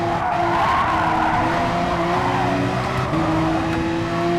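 Car tires skid and squeal under a steady engine roar as a racing game car kicks into oversteer, a loud, continuous slide with the pitch wavering throughout.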